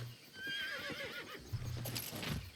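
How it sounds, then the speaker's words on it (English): A horse in the Albion Online video game gives a loud whinny, followed by a steady patter of hooves, close and alone without speech. "Let's get back on our horse."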